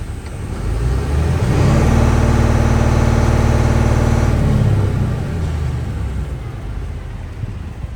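A car engine revved during an RPM test, climbing from idle to a loud sustained high-rev roar for a few seconds, then dropping back to a steady close idle.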